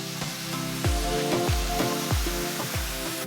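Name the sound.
sauteing vegetable fried rice with soy sauce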